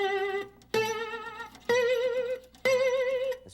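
Three sustained guitar notes, each plucked then held with a fast, wide, nervous vibrato wobbling the pitch, separated by short gaps.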